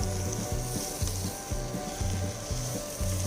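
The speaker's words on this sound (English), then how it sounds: "you can now mix this really well with the onions and the rest of the ingredients" Marinated mutton for an Andhra-style curry, mixed with onions and other ingredients in a hot pan, gives a steady sizzle under a rhythmic scraping stir that repeats about every half second.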